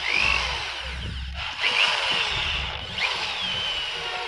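Cordless Makita hammer drill, a Japanese import, running in reverse, a loud steady high whine with brief dips and restarts as the trigger is eased and pressed, no talking.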